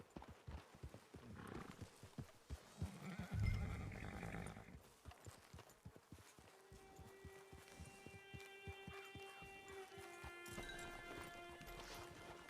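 Horse hooves clip-clop in a steady rhythmic walk in the Western video game Red Dead Online, with a brief whinny early on and soft music or ambience underneath.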